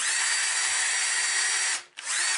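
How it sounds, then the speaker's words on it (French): A hand drill bores a hole into wood, a steady high whine running continuously, dropping out briefly near the end, then resuming at full volume. "bien important de venir avec une perceuse à main faire les trous"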